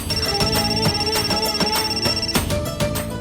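A phone ringtone plays steadily and fairly loud, a repeating electronic melody with a high tone held through most of the ring, no voices.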